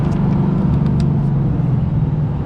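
A 2024 Ford Mustang GT Premium's engine rumbles low and steady from inside the cabin while driving, with a few faint ticks over the drone.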